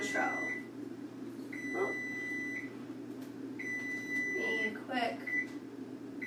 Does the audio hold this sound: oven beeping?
yes